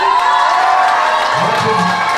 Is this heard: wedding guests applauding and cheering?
yes